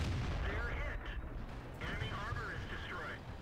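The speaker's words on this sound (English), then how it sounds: "And this was the sound of explosion." Tank shell impacts from World of Tanks (T-62A, Dragon Ridge map), heard as loud booming explosions over a constant low rumble of battle noise, with one burst near the start and another around the two-second mark.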